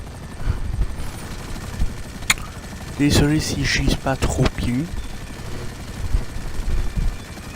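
A video game helicopter hums steadily in the background with a low, continuous rotor drone, while someone talks over it for much of the stretch and a sharp click cuts through midway.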